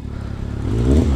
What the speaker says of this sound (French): je sais pas si vous pouvez entendre le petit claquement qu'il y a quand j'accélère un petit peu